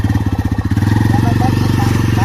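A motorcycle engine idles close by with a fast, steady pulsing throb, its rhythm tightening slightly as it runs.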